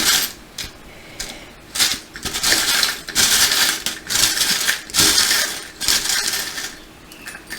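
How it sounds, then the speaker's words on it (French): A bunch of small metal charms and trinkets, including a key, is shaken for a divination draw, giving bright jangling clatters in repeated loud bursts with brief pauses between them, close up. "Attention aux oreilles, on va remuer les breloques."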